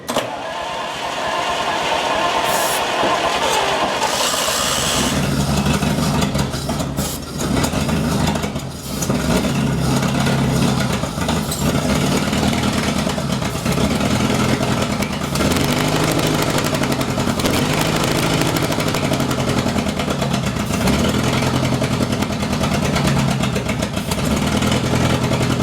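A 1939 Buick engine, revived after 66 years, cranks and catches, then runs on its own in a loud, rough idle with uneven pulsing and revving rises.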